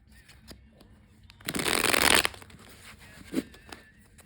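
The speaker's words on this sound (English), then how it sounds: "I will shuffle the first deck just a few more times" A tarot card deck being shuffled, a loud dense riffle lasting about a second in the middle, with softer handling taps before and a small knock afterward.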